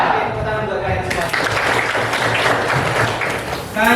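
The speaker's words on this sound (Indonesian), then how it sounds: "Tepuk tangan buat kalian semua." Students at SMA Negeri 1 Sewon applaud in a classroom, a loud burst of mixed clapping lasting a few seconds. Voices are heard just before and after it.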